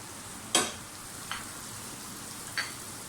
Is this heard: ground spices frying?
yes